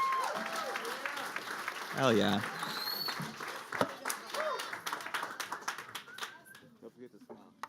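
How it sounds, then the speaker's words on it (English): Audience applause at a web demo day held at Google HQ, a moderate wave of clapping from the crowd with a louder burst partway through, mixed with a presenter's voice and scattered cheers over it. "Give them a huge round of applause."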